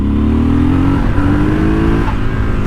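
A Triumph Scrambler 1200XE motorcycle revs hard during a wheelie, its engine loud and close with a sustained, slightly rising growl that holds steady throughout.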